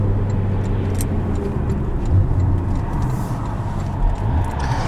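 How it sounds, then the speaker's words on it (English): A 2016 Porsche Boxster Spyder engine idles with its exhaust closed, a subdued, steady low rumble, close by, with faint ticking on top. "Even with the exhaust closed, it still sounds pretty good."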